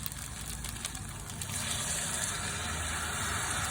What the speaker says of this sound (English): we're going to pour 2 cups of boiling hot water.